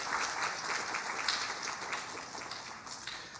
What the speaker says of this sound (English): I'd like a round of applause for Stavros